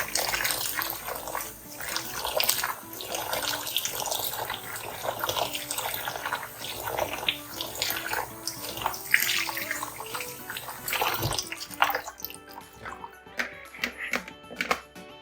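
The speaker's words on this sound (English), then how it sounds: "Let's just pour in some water." Water pours from a tap onto soaked beans in a bowl while preparing baked moi moi, a steady splashing rush lasting over ten seconds before cutting off, followed by a few faint drips and clinks.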